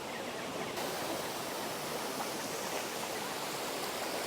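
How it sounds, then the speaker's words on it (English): A waterfall at Tintagel Castle on the Cornish coast pours in a loud, unbroken rushing roar close by, with no voices over it. "And then there's the waterfall over here."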